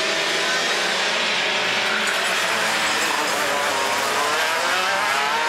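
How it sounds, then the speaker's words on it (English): Racing karts in a two-hour endurance race in Christchurch roar past at high revs, a loud, continuous buzzing engine drone that swells slightly as the pack goes by. "Kart number 88 going through there, Aaron Hooper and Jonathan Haig from Christc"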